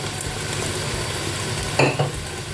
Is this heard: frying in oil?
yes